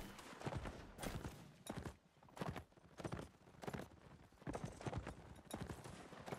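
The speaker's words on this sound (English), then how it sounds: "There are tons of horses around." Horses' hooves clip-clop in the Napoleonic Wars multiplayer battle game, quick repeated bursts of galloping hoofbeats coming in clusters, fairly quiet and close, with short gaps between runs.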